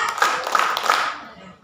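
Hand clapping during an inclusive early-childhood education session in Garut, a quick burst of claps from a group that fades away toward the end, with voices mixed in.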